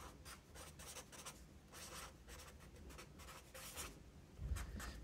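Pen or pencil scratching across paper while math equations are worked out by hand, a steady run of short strokes and scribbles, close and fairly quiet, with no talking.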